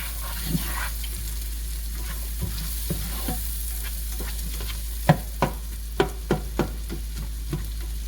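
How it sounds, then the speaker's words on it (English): Chopped yellow onion sautéing in a pan for a cottage pie, a steady close sizzle with a run of sharp scraping stir clicks near the end, with no talk. "So put the onion in there, and we're going to start getting that a little bit glassy"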